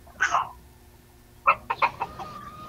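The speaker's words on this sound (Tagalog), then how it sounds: "May manok ka, kuya." A chicken clucks close by: one short burst, a pause, then a quick run of several clucks trailing off.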